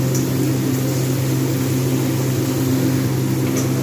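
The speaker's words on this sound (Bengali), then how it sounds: "চিকেনটা একটু ভেজে নিলে ভালো টেস্ট আসবে যার জন্য আমি চিকেনটা ভাজতে থাকবো" Chicken pieces sizzle in a hot pan with a loud, constant frying hiss and a steady low hum under it, and no one speaks.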